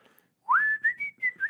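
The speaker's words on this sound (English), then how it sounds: "will you whistle as I say it?" A single person whistles a short rising note followed by a few quick, clear chirps, close and alone in a quiet room.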